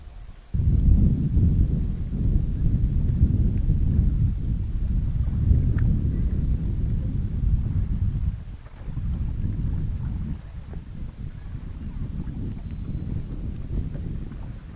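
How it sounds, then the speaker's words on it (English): Strong wind buffets the microphone aboard a fishing boat, a loud, continuous low rumble with gusting surges and a brief drop midway, with no voices. "So we got some wind happening here, so this could make things a little rough."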